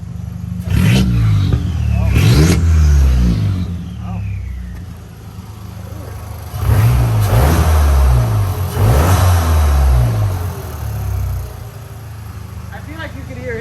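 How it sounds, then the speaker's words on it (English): Straight-piped turbocharged car engine revving hard in repeated bursts, roughly four loud pulls with pauses between, close by, with people talking over it. "it's officially straight piped. Adam's gonna love this. Let's hear what it sounds like"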